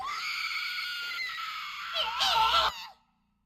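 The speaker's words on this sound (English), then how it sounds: "but you also hear screams of men too." Men's anguished screams as a sound effect in a tabletop horror campaign, several overlapping wailing cries that swell louder near the end and then cut off abruptly.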